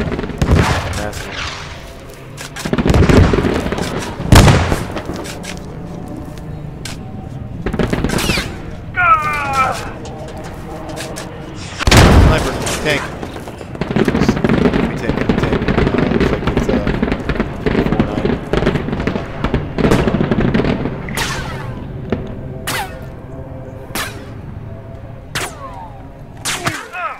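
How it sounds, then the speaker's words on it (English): Tank cannon blasts and bursts of gunfire in the sci-fi combat game Galactic Contention, with sharp loud cracks and booms scattered over a busy battlefield din, and players talking over it. "There's a tank firing in that."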